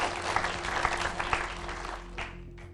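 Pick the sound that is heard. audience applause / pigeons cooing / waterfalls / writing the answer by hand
audience applause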